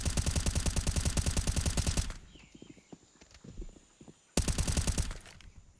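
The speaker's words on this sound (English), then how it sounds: "Bullets." Rapid automatic gunfire from a Counter-Strike: Global Offensive pro match: two long, dense bursts of closely spaced shots, loud and near, separated by a quieter stretch of scattered, fainter shots and clatter.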